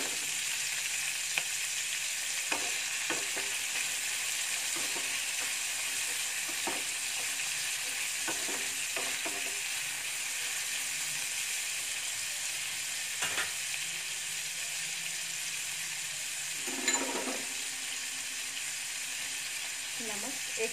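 Garlic cloves and kasuri methi sizzle steadily in hot oil in a kadhai, a constant hiss running the whole time with scattered spoon clicks and stirring scrapes, one louder clatter partway through.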